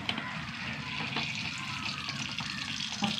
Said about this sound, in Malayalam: കുറച്ച് വെളിച്ചെണ്ണ ഒഴിച്ച് കൊടുത്തിട്ട്